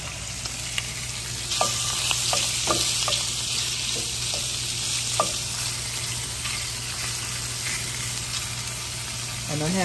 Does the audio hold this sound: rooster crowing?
no